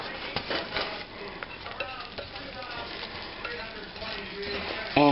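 Milk and egg being whisked together for corn fritter batter, a busy close clatter of utensil against bowl in quick irregular strokes, with a brief louder knock at the end.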